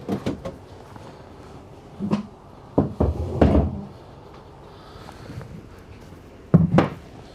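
Cabinet doors and panels in a 2025 Newmar Dutch Star motorhome closing with a series of close wooden knocks and clunks, several sharp thuds spread unevenly over a few seconds in a quiet room.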